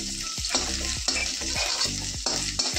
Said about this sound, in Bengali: আমি ডিম ভেজে দেবো